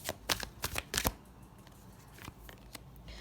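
Oracle cards are shuffled by hand in several quick riffling bursts, close and crisp, followed by softer scattered card rustles.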